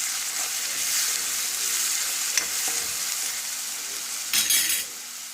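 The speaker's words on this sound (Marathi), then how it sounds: "लसूण, आले, कोथिंबीर, खोबरे याची पेस्ट, एक बारीक चिरलेला कांदा छान हलवून परतून घ्यायचे." Chopped onion frying in a pan with a garlic, ginger, coriander and coconut paste for a bitter gourd curry, a steady bright sizzle with occasional scrapes and clinks of a spatula being stirred.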